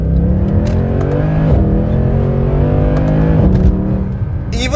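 A Mercedes C63 AMG Black Series engine revs loud and near from inside the car, holding a steady throaty drone with a few gear-change dips and rises and a brief whine at the end.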